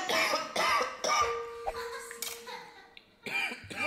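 A person coughs repeatedly in a hacking, exaggerated way after tasting food, with short bursts mixed with laughter and a brief tonal vocal sound in between.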